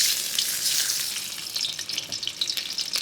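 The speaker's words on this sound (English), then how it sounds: "You see? Sizzling." Shrimp frying in about two tablespoons of hot oil for Thai shrimp fried rice, giving a steady, close hiss and crackle of sizzling with brief rising spatters, no voices.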